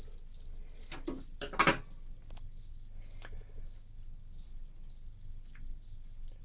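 A feeder cricket dropped into a Phormictopus tarantula enclosure gives rapid, thin chirps that pulse repeatedly and close up, with a few scraping rustles early on and nobody speaking.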